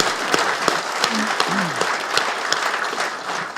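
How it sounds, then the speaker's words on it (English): Audience applause for a speaker after a talk, a loud continuous patter of many hands clapping close by, with a brief voice rising under it midway. "so we have another round of applause for Andrew, please"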